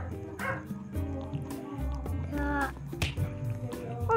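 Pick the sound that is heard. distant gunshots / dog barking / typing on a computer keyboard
dog barking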